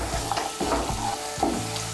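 Green peas stirred into a spice mixture frying in a pan for a Bengali cauliflower curry, with a steady loud sizzle and repeated scraping strokes of the stirring spoon.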